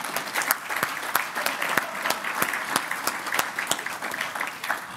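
Applause from a cybersecurity event audience for a presenter, with distinct individual claps standing out in an uneven rhythm over steady background clapping.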